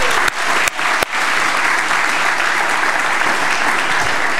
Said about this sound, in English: let's give Bree one more round of applause